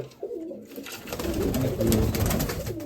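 Pigeons, including grey birds and a hen, coo softly in a loft in Kamianske, low burbling calls repeating through a steady murmur of background noise.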